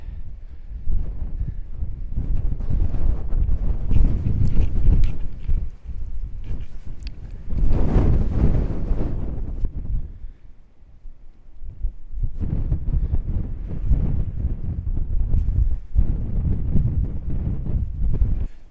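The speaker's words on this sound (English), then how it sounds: "it's cold up here and very windy" Strong wind roars and buffets against the microphone in long gusts on a cold winter mountain top, rising and easing, with a brief lull partway through.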